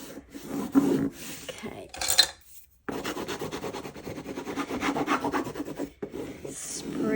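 Fabric is pressed and rubbed down onto an old book cover, giving close, dry scraping strokes in irregular bursts with short pauses, and someone briefly speaks.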